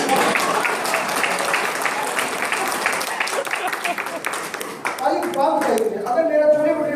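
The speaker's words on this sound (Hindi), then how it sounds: "ठोको ताली" Comedy-night audience clapping in a broad, steady wash that fills the room, with a voice speaking over it and the applause thinning toward the end.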